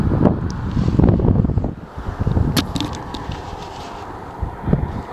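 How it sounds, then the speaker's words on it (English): Strong desert wind buffets the microphone in loud, continuous rumbling gusts that ease slightly partway through, with a few rustling hits and no voices. "It gets super windy here in the desert."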